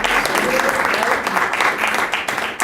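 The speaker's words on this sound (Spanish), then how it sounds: "yo voy a aplaudir" Dense, loud applause fills the whole stretch from a gathered audience at a psychoanalysis talk, a steady wash of many clapping hands with no pauses.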